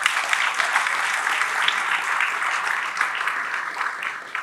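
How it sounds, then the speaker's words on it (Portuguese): Audience applause at a tourism gathering held in a Hard Rock Cafe in Curitiba, a thick, sustained wash of clapping from many hands, even and continuous from start to finish with no voices on top. "vamos bater palmas para o Sandro Alex, que é muito merecido."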